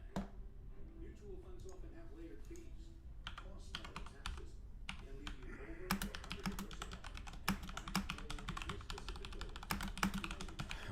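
Someone types on a computer keyboard in a stock trading room, a fast, close run of light clicking keystrokes that grows busier partway through, with someone talking quietly underneath.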